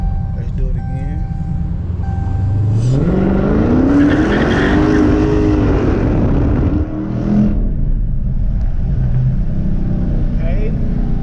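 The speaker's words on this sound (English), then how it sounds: "as y'all can see with the street tune, the car sounds utterly ridiculous" A 2019 Dodge Challenger ScatPack with a Jay Greene street tune revs hard and accelerates close by, its engine note climbing to a loud roar with some tire noise before easing, while someone talks over it.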